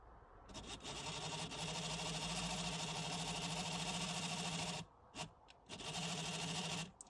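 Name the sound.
TRIX N gauge Britannia 7000 model locomotive motor running on 8 volts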